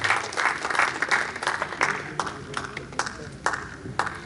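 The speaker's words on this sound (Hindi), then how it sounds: "आपकी तालियों के साथ एक बार फिर अलमा साहिबा" Applause from the audience at an Urdu Academy evening of poetry and ghazal, a moderate wash of clapping with a few sharper claps standing out, heard at middle distance and thinning toward the end.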